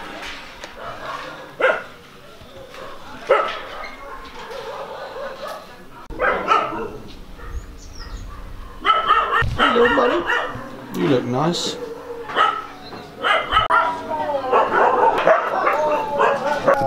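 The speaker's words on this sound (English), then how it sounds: "The dogs are going mental because they've just brought another two dogs in." Dogs at an animal shelter in Udaipur, India bark, yip and whimper in an excited chorus, loud and close, while a person speaks over the din.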